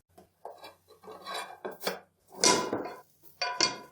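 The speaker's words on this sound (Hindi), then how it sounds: "हम कोई प्लेट या इस तरह कोई तवा लेंगे, इस तरीके से ऊपर रखेंगे और पलट लेंगे।" Plate or tawa clattering and scraping on a kitchen counter as a homemade pizza is flipped over in a pan, several short close clinks and rubbing knocks in quick bursts with brief pauses between.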